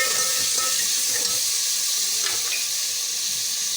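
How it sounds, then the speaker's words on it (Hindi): Potatoes and peas fry with spices in a pan, giving a steady, close sizzling hiss that runs unbroken throughout, with no voices. "थोड़ा सा ये फ्राई करेंगे, और इसके साथ ही ये मसाले जो हैं ये डाल देंगे सारे।"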